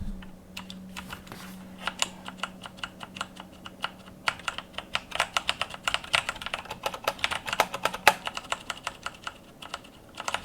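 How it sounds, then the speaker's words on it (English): Rapid typing on a Logitech G513 Carbon mechanical keyboard with tactile switches, close-up, with dense irregular key clicks and clacks that grow busier and louder, and no voices. "The reason is that it has that resistance. So after you go over the tactile bump, there still is a lot of resistance all the way down."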